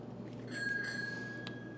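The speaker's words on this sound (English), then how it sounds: "the iCombi Pro is letting us know that something's ready" An alert chime from an iCombi Pro combi oven signalling food is ready: a single bright, thin ringing tone that sustains for about a second over a faint kitchen hum, quiet and slightly distant.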